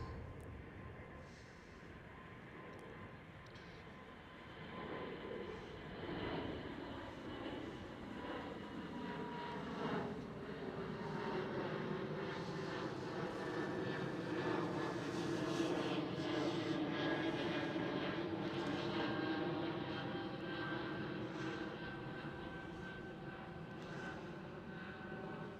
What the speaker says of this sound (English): Absolutely stunning departure. That looks like an Airbus A220.